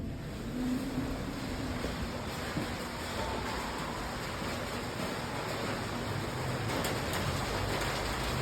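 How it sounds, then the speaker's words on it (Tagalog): Rain falls on a commute in Manila, a steady dense hiss of drops that holds an even level throughout with no voices. "umulan na naman"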